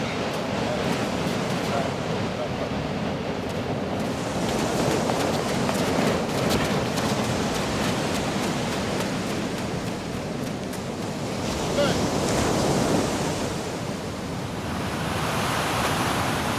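Ocean waves wash steadily onto a beach in a continuous broadband roar, with gusts of wind buffeting the microphone and slight swells in loudness around the middle and end, heard alone without speech.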